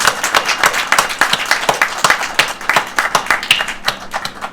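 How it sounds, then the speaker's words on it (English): A crowd at a groundbreaking ceremony for a new fire station in Reading gives a round of applause, a close, steady patter of many hands clapping that thins slightly toward the end. "I'd like to give them all a round of applause for the outstanding."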